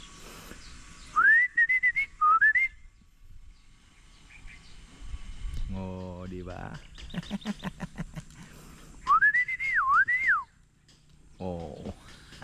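A person whistles rising, looping calls to birds in a few short bursts, separated by quiet moments and a brief spoken remark in Filipino.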